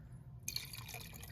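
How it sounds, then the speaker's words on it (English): Water is poured into a homemade rust mixture, a soft splashing trickle starting abruptly after a brief quiet moment and continuing steadily, close and fairly faint. "I add water to it."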